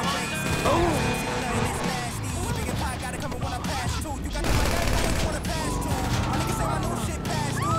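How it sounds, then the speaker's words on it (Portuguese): Steady, dense gunfire from a Grand Theft Auto V game session, with rapid bursts and distant shots keeping up a continuous barrage, while someone talks excitedly over it. "cara tá atirando de mim de longe, velho"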